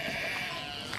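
A sheep bleating among a flock, a single sustained nasal bleat close by lasting about a second.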